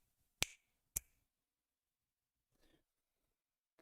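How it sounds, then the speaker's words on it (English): Two sharp finger snaps about half a second apart, close and crisp, followed by faint shuffling and a small click near the end, with no talk. "you have to snap your fingers 3 times to reverse this price action"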